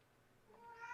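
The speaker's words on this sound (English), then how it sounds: "I'm going to apologize right now for my cat being very noisy." A house cat lets out a single short meow that rises at the end, faint and nearby against a quiet room.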